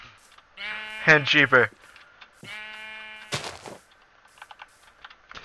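Sheep bleating in a Minecraft-style modded survival game, several loud, wavering bleats in two bursts close by, with a person talking briefly and clicky keyboard or game sounds afterward.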